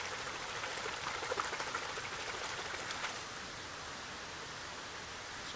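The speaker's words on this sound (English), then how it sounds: "like a wiggle in the water, and it makes quite a cool" A hand wiggles through water outdoors, giving a soft, continuous splashing and trickling wash at low volume that becomes slightly quieter partway through.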